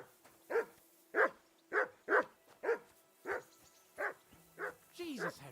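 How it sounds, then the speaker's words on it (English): A dog in the Kingdom Come Deliverance 2 video game barks in an insistent series of about nine evenly spaced sharp barks, close and clear, ending in a rising whine. "Henry, that barking's driving me nuts. Can you get your dog to shut its beak?"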